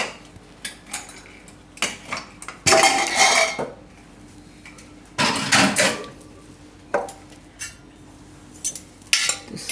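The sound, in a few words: opening a pressure cooker of soya chunks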